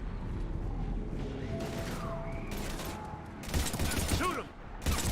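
Gunfire from the Mass Effect 3 video game, with bursts of shots and mechanical clatter over a steady battle rumble, louder near the end, while voices shout under the action.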